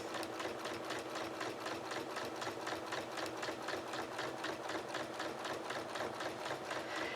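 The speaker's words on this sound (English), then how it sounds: "I've got my walking foot on here, and I'm just going to stitch right through what I've already done" A sewing machine fitted with a walking foot stitches through a quilt in a fast, even, steady run of needle strokes. The sound is close and constant throughout, with no talking.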